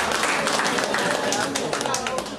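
A church congregation applauding, a dense, steady wash of many hands clapping that holds for the whole stretch, with voices mixed in underneath.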